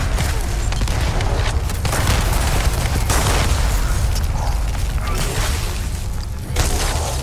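Gunfire from a weapon in the video game The First Descendant, dense continuous bursts and booms over game sound, loud throughout.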